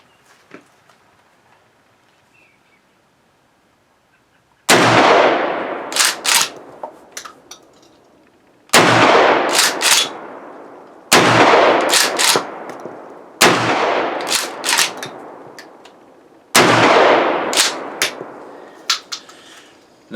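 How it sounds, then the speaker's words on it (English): Five heavy blasts from a Mossberg Maverick 88 12 gauge pump shotgun loaded with Winchester slugs, spaced about four seconds apart, each loud and close with a long ringing decay and pump-action clatter between shots, no talking. "first one we're going to try is the Winchester slugs here. So let's see how it shoots."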